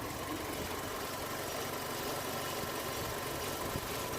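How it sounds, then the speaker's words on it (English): A Ford KA 1.2 engine idles steadily with a low, uneven puffing from the exhaust like a misfire, a continuous rumble with no voices over it, after a sump replacement. "from the exhaust, there is a noise as if it's misfiring, like a puffy noise"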